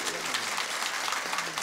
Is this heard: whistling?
no